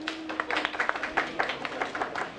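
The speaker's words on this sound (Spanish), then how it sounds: "aplauso a este" Audience at a teachers' math workshop applauding to vote for a choice, a scattered, uneven patter of clapping at moderate distance with a faint voice underneath.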